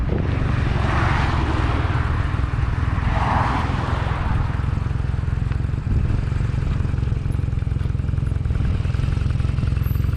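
A motorcycle engine runs loud and steady at close range as the clutch is eased out for a slow pull-away, with a dull rumbling drone throughout and no speech.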